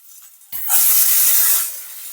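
After a quiet moment, a sudden loud hiss and sizzle bursts out as mango pieces hit hot oil in a pan, then holds steady and eases slightly.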